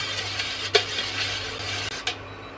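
A spoon stirs a banana and honey wine mixture in a pot being heated on a stove, a steady scraping swirl with a couple of sharp clinks against the pot rim.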